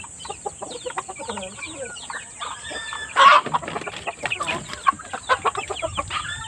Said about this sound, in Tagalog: Jigger, yung bantam natin.